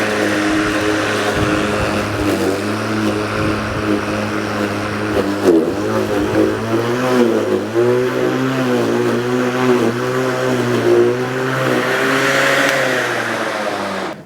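A Skil cordless battery lawn mower cuts grass and climbs in revs under load, a steady loud motor whine with shifting, rising pitch tones and a dense whirring hum running throughout.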